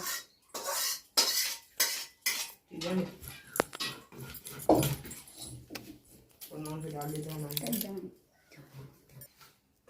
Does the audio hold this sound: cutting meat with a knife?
yes